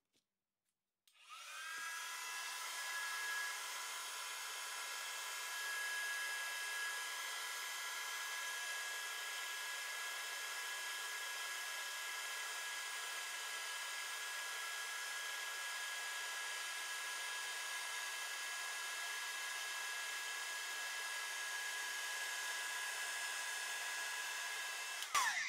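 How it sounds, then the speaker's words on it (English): A heat gun blows steadily while melting embossing powder for card making, a continuous whooshing whine that starts abruptly and holds for about 25 seconds, close and even, with no talking. "So bear with me 2 seconds just while I heat emboss this."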